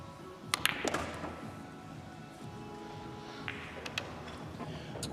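Pool balls clacking sharply on a break at the UK Open Pool Championship, a quick cluster of cue-ball and ball impacts followed by scattered clicks as balls collide and drop, faint and heard under crowd murmur.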